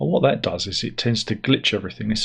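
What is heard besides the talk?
No everyday noise stands out behind the speech.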